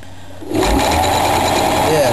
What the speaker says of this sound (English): sew all the way up